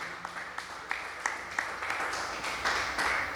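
Scattered hand claps from a church congregation during a family worship service, sparse and mid-distance at first, then building into fuller applause.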